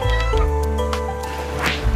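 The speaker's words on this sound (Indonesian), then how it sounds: "Oh, ini nih ada kucing." A glitchy-looking cat in the video game A Space For The Unbound lets out a drawn-out meow over steady game music and ambience.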